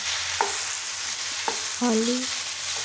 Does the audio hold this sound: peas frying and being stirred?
yes